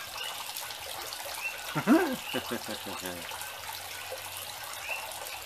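A small backyard pond waterfall splashes in a steady, close, broadband wash of falling water, with a brief voice rising over it near the middle.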